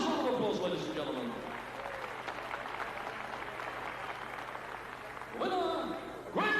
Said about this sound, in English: Last round of applause, ladies and gentlemen.